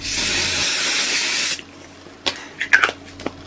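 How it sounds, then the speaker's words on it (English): A single sustained burst of fine mist from a Kryolan setting spray sprayed on a face hisses for about a second and a half, then stops, followed by a few soft clicks and light handling taps. "I'm just gonna go in with the Kryolan spray just a bit"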